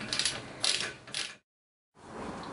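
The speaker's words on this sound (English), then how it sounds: "Screw it in." A wooden handle is screwed into the metal socket of a broadfork, with two bursts of grinding, creaking turns separated by a brief silence, close and fairly faint.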